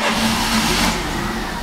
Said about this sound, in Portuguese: E agora o carro pega, ó.